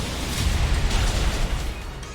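A Wicked Blow attack landing a critical hit in a Pokémon battle game, heard as a loud, dense burst of impact noise lasting about two seconds before easing off.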